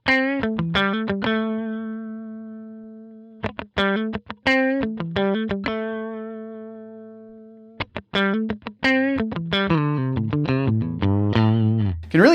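An electric guitar runs through a Line 6 Helix Retro Reel tape simulator at slow tape speed, giving a fat, slightly distorted tone. Single picked notes and short phrases ring out with gaps of silence, closing with thicker, busier playing.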